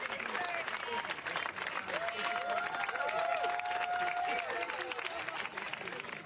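Colleagues cheer and applaud as CDC officials are escorted off the premises, a dense, steady wash of clapping and crowd voices held at even loudness throughout, with shouts and whoops rising above it.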